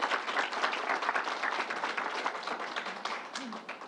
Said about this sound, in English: Let's give Troy a round of applause.